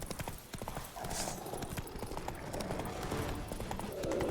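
Hooves of Roach, a horse in The Witcher 3, clip-clop in a steady galloping rhythm throughout, close and fairly loud over game ambience, with a brief whinny-like sound partway through.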